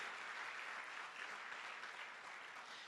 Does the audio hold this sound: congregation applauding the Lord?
yes